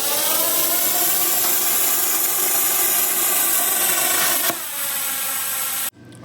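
Langmuir Crossfire Pro CNC plasma table with a tube notching attachment cutting metal tubing, a loud steady roaring hiss that carries on for several seconds, shifts tone partway through, then cuts off abruptly.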